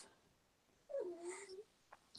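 A dog whining nearby, a single drawn-out nasal whimper that rises and falls for under a second, followed by faint breathy sounds.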